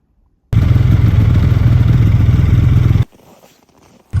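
Snowmobile engine droning loud and close on snowy Minnesota trails, a steady rough mid-pitched roar for a few seconds that cuts off abruptly, then resumes briefly at the end.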